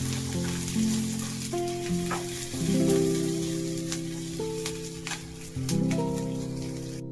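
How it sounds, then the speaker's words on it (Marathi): Coconut, garlic and ginger fry in a pan with a soft, close sizzle and light crackle, while steady tonal music plays over it throughout. "आता टाकूया खोबरं लसूण अद्रक सगळं टाकलंय ते पण चांगलं भाजून घेऊया"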